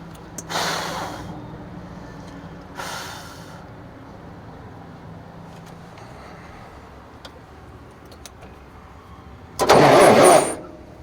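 Starter on a 1994 Freightliner Classic truck cranks in short bursts without the engine catching, with a loud final burst of cranking near the end and quiet pauses between attempts.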